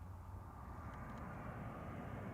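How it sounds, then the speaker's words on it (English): A British Airways Airbus A320 airliner at Zurich Airport, heard as a faint, steady distant engine rumble and hiss holding evenly throughout. "this BA A320 have a problem"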